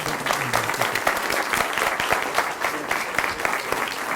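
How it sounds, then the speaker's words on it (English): Theatre audience giving a steady round of applause after a talk, dense continuous clapping filling the room at even strength for a few seconds, with faint voices beneath. "Nice round of applause"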